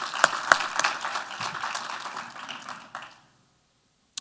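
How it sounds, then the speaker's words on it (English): An audience at an architecture event claps for sponsors, a few sharp claps opening a moderate round of applause that thins out and stops after about three seconds, leaving near silence. "Let's give them all a round of applause."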